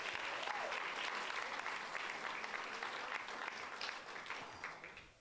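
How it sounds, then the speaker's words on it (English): Warm audience applause at a storytelling show, a full, continuous patter of many hands that sounds somewhat distant and fades off toward the end. "she really deserves a round of applause"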